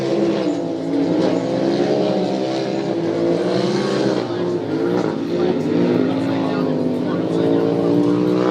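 Polaris and Can-Am off-road race vehicles racing at Glen Helen, engines droning loud and continuous with rising and falling revs throughout, under steady commentary.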